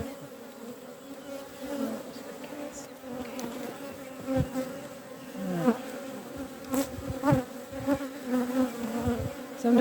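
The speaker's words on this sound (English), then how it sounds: "you can see the bees there working away" Honey bees buzzing at an open hive in an Irish apiary in April, a close and dense droning hum that swells and fades with passing bees, with a few handling knocks and no talk.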